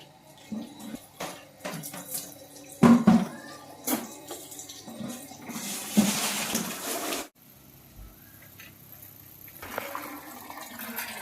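Water is poured and splashed over a car during a hand wash, with irregular bursts of splashing and gushing, some clattering knocks, then a sudden drop to quieter dripping and trickling near the end; no talk.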